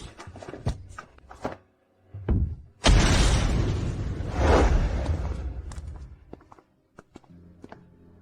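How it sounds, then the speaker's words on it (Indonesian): A car explodes in a dramatic scene: a sudden loud broadband blast erupts after scattered thuds and footsteps, then rolls on with a second swell and fades out over several seconds. "Mobilnya akan meledak."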